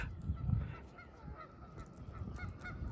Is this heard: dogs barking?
no